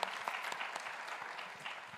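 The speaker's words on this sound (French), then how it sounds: "Elle mérite bien les applaudissements. Applaudissez s'il vous plaît." An audience at a conference on women's entrepreneurial leadership claps, a brief burst of steady, moderately distant applause with no talk over it.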